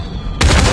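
Uzi submachine guns firing in the VR video game Population: One, a sudden loud burst of rapid shots starting abruptly after a quiet moment and continuing to the end.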